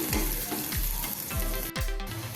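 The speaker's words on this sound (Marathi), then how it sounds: "दोन हिरव्या मिरच्या बारीक चिरून घेतल्या आहेत त्या पण परतूया" Onion and finely chopped green chillies fry in a pan, making a steady loud sizzle punctuated by several rhythmic scrapes of a spoon stirring, heard up close without speech.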